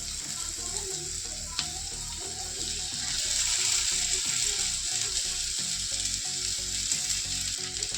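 Fried okra sautéing with tomato in a pan for a dry okra fry, a steady sizzle with rhythmic scraping and clinking of a spatula against the pan, with no voices.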